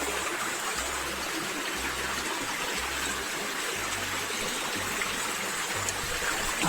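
Stream water rushing and babbling steadily at close range in Central America, a dense continuous wash with no voices over it.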